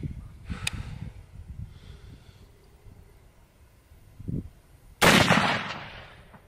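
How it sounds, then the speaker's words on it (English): A single sharp, loud rifle shot from a Mossberg Patriot firing 174 grain 7mm Rem Mag cracks out after a few quiet seconds of faint handling noise, then decays with a brief rumbling tail. "up next we got some 174 grain, 7mm rim mag coming out of my Mossberg Patriot with the Vortex Crossfire"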